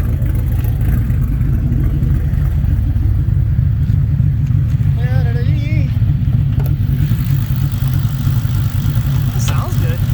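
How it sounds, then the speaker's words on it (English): A red car's engine held at 3,500 RPM on a two-step launch limiter, a loud steady rumbling drone through the whole stretch with a faint voice briefly audible over it. "Engine sounds healthy. Not clicking and clacking all crazy."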